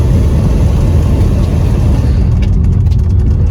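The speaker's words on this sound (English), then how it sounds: "So the BMW is making new noises." A 1999 BMW 328i (E46) engine, making new noises after sitting for months, runs loudly close up, a constant low rumble with a steady hiss over it.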